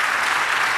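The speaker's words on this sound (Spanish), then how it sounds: "Denle un aplauso." Church congregation clapping together in a continuous, even burst of applause that fills the room, many hands at once and no speech on top.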